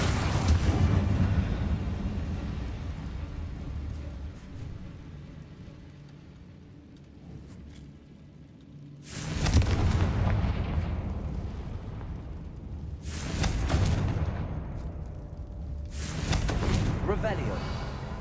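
Bombarda and Confringo explosion spells cast in a wizarding video game, heard as a series of roughly four deep, rumbling blasts that swell and fade a few seconds apart over a constant ambient bed, with a player speaking.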